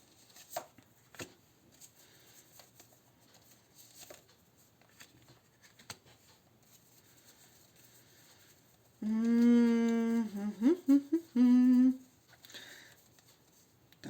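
Tarot cards are shuffled and handled with soft taps, flicks and rustles, and a voice sounds briefly partway through.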